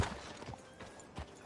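Horse hooves clip-clopping in a video game, soft and fairly close, with a few distinct irregular footfalls spread across a short moment.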